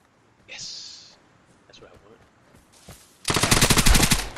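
Rapid automatic gunfire from a video game bursts loudly near the end after a sharp hissing shot and quieter clicks earlier, with a player's voice exclaiming over it.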